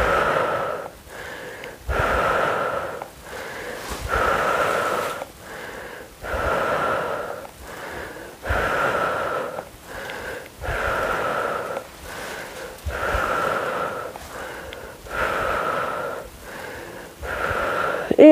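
Rhythmic deep breathing during a strength workout, each inhale followed by a long forceful exhale, repeating steadily around a dozen times, close and clear with no talk.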